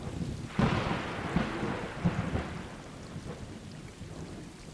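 Video game rain and thunder: steady rain hiss with low rumbling thunder rolling underneath, a few deeper booms standing out, continuous and moderately loud with no voices.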